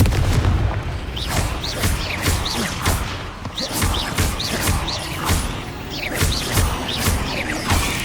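Confringo spell explosions in Hogwarts Legacy, a rapid, dense run of booming blasts and crashing impacts, loud and close, repeating throughout with faint voices in the mix.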